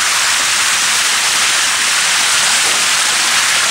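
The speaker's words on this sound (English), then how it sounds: "Got a waterfall." A waterfall at a villa pours in a steady, loud, broadband hiss without pause, with no voices over it.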